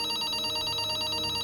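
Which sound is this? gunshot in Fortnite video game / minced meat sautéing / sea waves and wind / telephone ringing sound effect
telephone ringing sound effect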